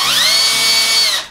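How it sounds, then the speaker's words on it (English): Keyless drill chuck being tightened on a drill, a short, loud, high-pitched whirring spin lasting about a second, then stopping, close up and alone. "As the chuck closes, the teeth grip onto the drill bit."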